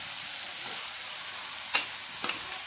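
Ground masala paste frying in a pan with a steady, quiet sizzle, broken by a couple of sharp clinks or pops near the end.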